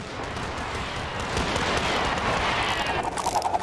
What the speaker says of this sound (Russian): А стрелки стреляют.